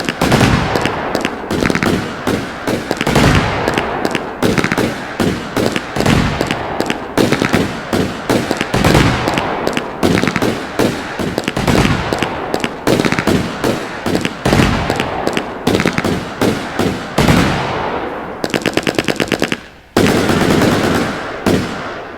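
Fireworks exploding in a video game, a long, loud, dense barrage of rapid crackling bangs with only brief gaps, ending in a fizzing burst and more pops.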